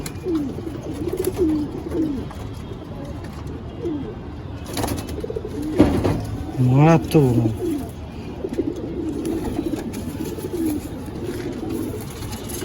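Andhra and Madras pigeons coo inside a loft, with repeated rolling, throaty calls rising clearly over a busy flock murmur while people talk nearby.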